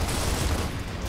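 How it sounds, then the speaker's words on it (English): Gears of War: Ultimate Edition gunfire rumbles as a dense, continuous, booming barrage, loud and close, with no distinct separation between shots and no voices. "Boom, headshot."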